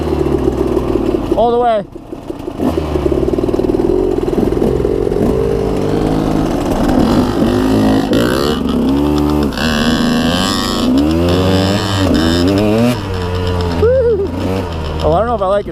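A trail motorcycle's engine revs repeatedly under throttle, rising and falling in pitch through several bursts, close and loud, with someone talking over it at times.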